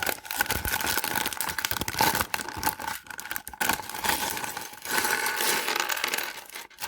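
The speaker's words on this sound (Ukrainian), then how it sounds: "давай відкриємо другий пакет" Plastic packaging for a toy set being torn and opened up close, with continuous loud crinkling, rustling and sharp tearing bursts that run for several seconds without talk.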